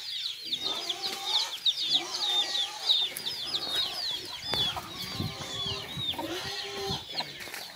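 Backyard chickens cluck and squawk continuously, including a quarrelsome hen, with repeated high calls over a busy layer of lower clucking, moderately near.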